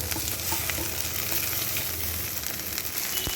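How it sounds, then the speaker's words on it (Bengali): Okra frying in a pan with scrambled egg, tomato and onion, a loud, steady sizzle with occasional stirring scrapes, close and continuous with no talk. "ভেন্ডিগুলো দিয়ে খুব ভালো করে ডিম টমেটো পেঁয়াজের সঙ্গে আবার একটু ভেজে নেব"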